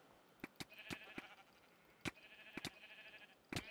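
Several short, bright sheep bleats come from the video game Minecraft, spaced irregularly over a few seconds. They are close and fairly quiet, with no talking.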